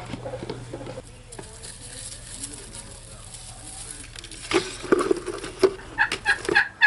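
Hens in a backyard chicken coop give a few soft clucks that grow busier toward the end, close by amid light rustling.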